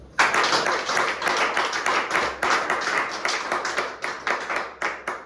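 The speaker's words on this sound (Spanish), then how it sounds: "Si lo vas a aplaudir, apláudelo." Hands clap in a quick, regular rhythm at a religious talk, each sharp clap distinct and fairly close, repeating steadily for several seconds with no speech over it.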